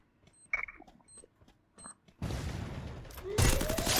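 Gunfire in the Free Fire battle royale shooter, with a few scattered short shots and beeps at first, then a sudden loud burst of rapid automatic fire that grows denser and harsher toward the end.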